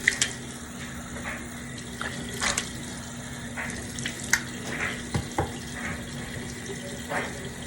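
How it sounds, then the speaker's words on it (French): Tap water runs steadily into a sink while a face is rinsed after using a Nu Skin polishing bar, with soft splashes and intermittent brief water sounds close by. "Et puis, tu rinces."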